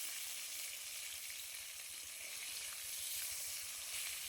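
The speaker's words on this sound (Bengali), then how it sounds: "মাছগুলো আমি একে একে তেলের মধ্যে দিয়ে খুব ভালো করে ভেজে নেব।" Bata fish frying in hot mustard oil in a pan gives a steady, even sizzle and hiss that holds without pause, fairly quiet and alone with no voices.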